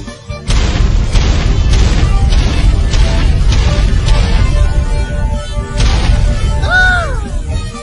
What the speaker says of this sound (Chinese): 看我的星魔炮击